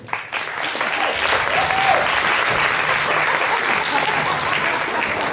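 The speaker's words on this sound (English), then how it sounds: "Ladies and gentlemen, put your hands together" A comedy show crowd breaks into loud, dense applause that swells quickly and holds steady as a continuous wash of clapping, with no voices over it.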